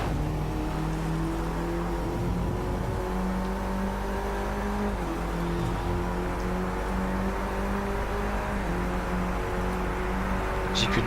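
A car in the racing video game Driveclub drifts through a turn, its engine whining steadily with shifting pitch under a constant tire and road hiss, moderately loud with no speech.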